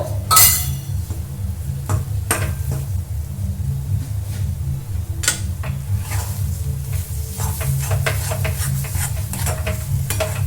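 Roasted spice powder is stirred in a sizzling pan for a hing potato curry, with a continuous close frying hiss under repeated spatula scrapes and light metallic clinks and no talking.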